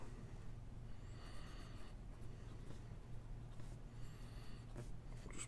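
Pen scratching a handwritten note on paper, faint close strokes in short bursts over a steady low hum, with no speech.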